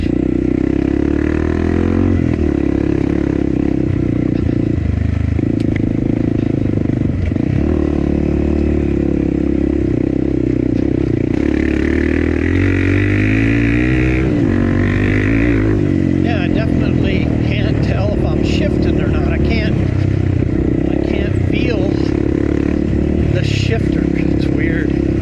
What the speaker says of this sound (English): All right, I'm on Bob's bike. We just came up a gnarly hill.